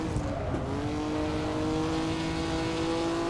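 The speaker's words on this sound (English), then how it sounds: "I love the engine sounds on this thing." A 1957 Formula 1 car engine in a racing video game, racing at Buenos Aires, drones in a steady high whine at near-constant revs, fairly quiet and continuous with no talking.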